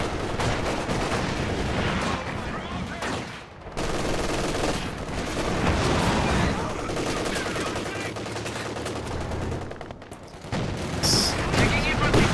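Infantry gunfire in a strategy video game: dense, overlapping rifle and machine-gun bursts rattle continuously with brief lulls, mixed into a busy battle soundscape.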